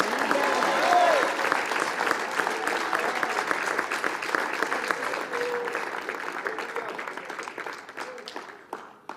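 A church congregation applauds after a sermon, a dense wash of clapping that starts strong and gradually thins and fades toward the end, with scattered individual claps standing out.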